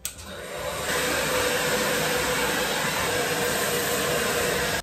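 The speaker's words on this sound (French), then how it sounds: "Le sèche-cheveux, ça me donne tellement chaud" A hair dryer blows steadily and close while someone dries their hair during a morning routine, a continuous broadband whoosh that starts within the first second and holds at an even, loud level throughout.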